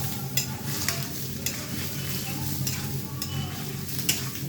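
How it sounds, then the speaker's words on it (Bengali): Flat beans and potatoes frying in a pan, a close, steady sizzle with repeated scraping stir strokes and soft clinks running throughout, with no voices. "এটা এবার ভালো করে ভেজে নেব"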